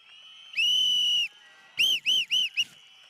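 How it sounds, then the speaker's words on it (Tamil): Whistles blown by a crowd at a political public meeting in Egmore constituency. One long shrill blast is followed by four short bursts, loud and close, with no talking. "எங்களின் விசில் சத்தம் விண்ணை பிளக்கின்ற வகையில் இதோ நாங்கள் ஊதுகிறோம்"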